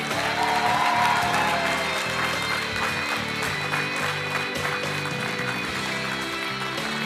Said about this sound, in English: Let us give them a warm round of applause.